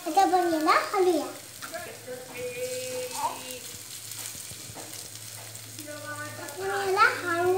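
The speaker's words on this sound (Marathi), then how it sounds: "आता आपण याला हलवूया." Poha is stirred in a pan, a soft sizzle and faint scraping running steadily beneath a voice speaking in Marathi and a voice.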